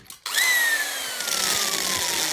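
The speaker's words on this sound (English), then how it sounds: "Start with a little drill, and then pilot." A power drill boring a small pilot hole into brick for mounting stainless steel cable fixtures: a sudden start, then a sustained high whining grind with a slowly falling pitch, close and loud, with no talking.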